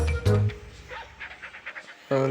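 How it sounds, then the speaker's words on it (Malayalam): A dog in the video game Robbery Bob pants and gives soft yips through the middle of the clip, between bursts of game music and tones at the start and end. "പട്ടി ഇവിടെ ഉള്ളതുകൊണ്ടാണ് കൺഫ്യൂഷൻ"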